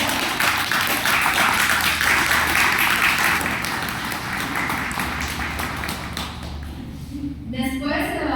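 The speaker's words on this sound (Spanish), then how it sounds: "Un aplauso, por favor." A crowd at an academic panel applauds steadily with dense, sustained clapping that gradually thins out, followed by a voice starting to speak.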